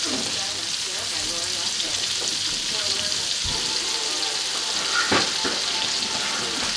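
Shrimp and garlic frying in a hot pan for pasta scampi, a loud continuous crackling sizzle throughout with a few clinks and scrapes as pieces are moved around, and faint talking beneath.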